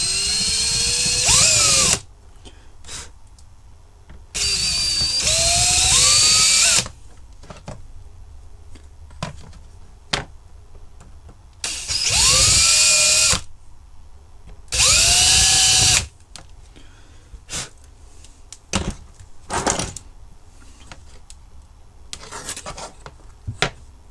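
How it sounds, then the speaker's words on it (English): A power drill bites into bolt heads during a Range Rover DSP repair, in four loud whining bursts of a few seconds each whose pitch climbs, with scrapes and clicks in the gaps between. "I need to get a drill and drill the heads off those."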